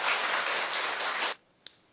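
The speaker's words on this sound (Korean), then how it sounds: "우리 박수로 환영해 주시기 바랍니다." A church congregation claps in welcome as a pastor comes forward to preach, a steady wash of applause that stops abruptly, followed by a faint room tone and a single small knock.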